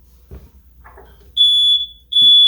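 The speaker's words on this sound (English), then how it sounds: "Oh, that's our smoke detector. From the smoke." A household smoke detector, set off by smoke from pan-searing wild caught tuna with teriyaki, sounds two loud, sustained electronic beeps, the second cutting in after a short gap, following faint kitchen clatter.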